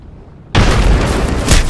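A frag grenade goes off in Apex Legends, one sudden loud, broad blast at about half a second that keeps roaring with a steady rumble to the end.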